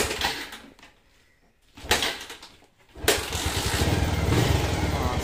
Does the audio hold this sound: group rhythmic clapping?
no